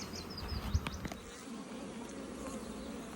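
Honeybees buzz around an open beehive, a soft continuous drone with a few individual bees whining past close by, plus one brief low bump, and no talking.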